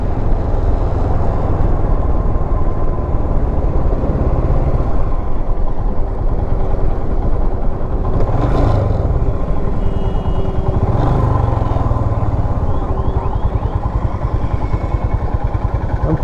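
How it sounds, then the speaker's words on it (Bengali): Motorcycles ride into an off-road track near Botolbari, their engines droning steadily and loud throughout, with a couple of passing surges swelling midway over constant low rumble. "বাইকগুলো যখন ঢুকছে"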